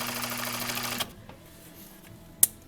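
A Juki MO-6716S serger stitches at speed for about a second with a dense, close whirring, then stops abruptly. A few faint clicks and one sharp tap follow in the quiet.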